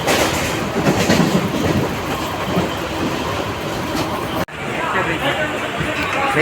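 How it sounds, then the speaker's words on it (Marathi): Loud, steady rumble and clickety-clack heard from inside a moving train near Virar, with carriage chatter mixed in and a sudden brief dropout and thump shortly before the end. "मित्रांनो आता आपण ट्रेन मध्ये बसलोय."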